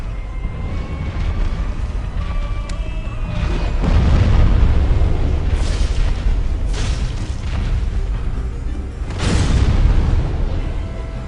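Explosions from the Fire Sage demon in Dark Souls boom again and again, deep and heavy, with loud blasts rising over a rumbling background.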